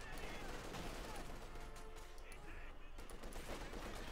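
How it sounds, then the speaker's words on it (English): Light machine guns fire in a Company of Heroes 2 battle, giving continuous rattling bursts and scattered shots over a dense, steady wash of battlefield noise at moderate volume. "TP light machine guns showing their worth here"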